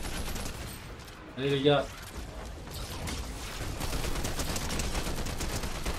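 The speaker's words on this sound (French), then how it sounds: "Ils n'ont toujours pas changé la boss 12e. Toujours avec sa mitrailleuse, là." A boss in a video game fires a machine gun in rapid, rattling bursts that fill the latter part of the clip, with someone speaking briefly over the game audio and a short electronic chirp sounding earlier.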